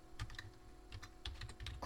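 Quick, light tapping on a computer keyboard, a brief burst of several soft clicks in close succession, close and quiet, with no one speaking.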